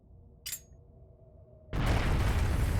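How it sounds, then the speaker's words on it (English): A sudden broadband explosion in the video game Trails of Cold Steel bursts in loud and close after a brief pop, then roars on in a sustained rumble to the end. "What? An explosion?"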